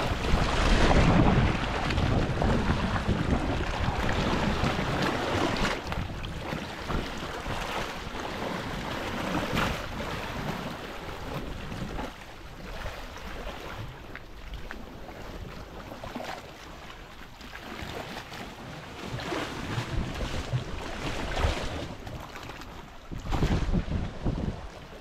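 A small boat cruising across Taal Lake near the volcano, a steady engine and hull drone mixed with heavy wind buffeting the microphone and splashing water, loud and continuous with gusty surges.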